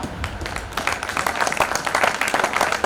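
Audience applause at a Hindi comic poetry (hasya kavi) recital: a dense, steady wash of many hands clapping, fairly close and sustained for a few seconds without a break.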